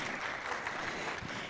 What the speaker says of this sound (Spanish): cerramos la participación con un fuerte aplauso a nuestros panelistas